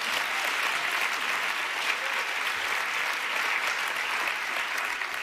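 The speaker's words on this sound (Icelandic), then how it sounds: "Ég vildi kannski klappa fyrir honum." An awards ceremony crowd applauds a playwright at the Gríman theatre awards, steady dense clapping that fills the room without pause and carries no speech over it.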